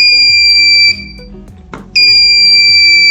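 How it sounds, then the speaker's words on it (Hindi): Buzzer of an ultrasonic distance alert system on an LCD distance-measuring build, a loud steady electronic tone that drops out for about a second and then resumes. "आएंगे तो हमारा बजर ऑन हो जाएगा"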